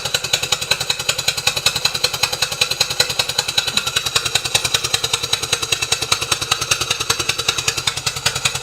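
A Stuart engine runs at a fast, even beat, a rapid regular mechanical chugging with metallic clatter that stays loud and close throughout, with no talking.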